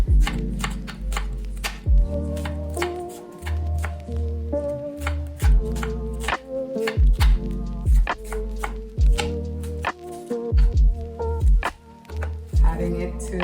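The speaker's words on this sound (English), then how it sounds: "Cutting the onions." Onions are being chopped on a board with a knife for curry goat, in a string of sharp, close, loud knife thunks with a steady, uneven rhythm.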